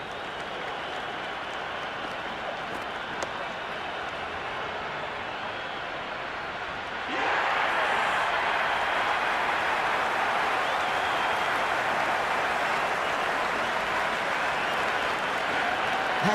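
A packed cricket stadium crowd at a Big Bash T20 match between Hobart Hurricanes and Melbourne Stars keeps up a steady murmur, then swells abruptly into loud sustained cheering and applause that holds to the end.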